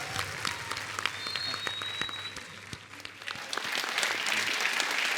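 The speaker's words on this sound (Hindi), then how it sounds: "तो आप सबकी जोरदार तालियों में स्वागत करना चाहूंगा" A television studio audience applauds to welcome a guest onto a comedy show, sustained crowd clapping that swells toward the end, with a faint voice beneath.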